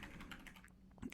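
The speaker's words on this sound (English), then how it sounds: "We're going to type in current underscore user backslash, which should be located right above your enter key on the keyboard." Typing on a computer keyboard, a quick run of soft, close key clicks under faint background noise.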